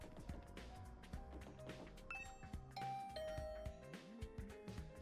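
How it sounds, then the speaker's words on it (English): A doorbell chime rings out over a busy electronic soundtrack in the video game Hundred Line, its tones sounding briefly amid music and effects. "I ring the doorbell to Tsubasa's room."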